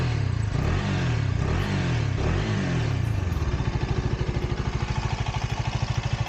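A KTM Duke 250 motorcycle engine revs in a few quick throttle blips, then settles into a loud, steady, throbbing idle close by.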